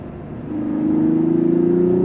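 A 2024 Mazda CX-90 Turbo's engine swells into a steady rev under throttle, a smooth mid-pitched drone rising over two seconds from cabin hum to a louder sustained pull, with no voices.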